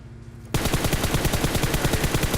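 Rapid automatic gunfire in PUBG Mobile aimed at a vehicle, a loud sustained burst of evenly spaced shots starting abruptly after a brief quiet moment.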